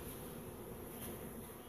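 Honey bees buzzing around a beehive while newly installed bees settle in, a steady, fairly faint drone that continues without a break and without any voices.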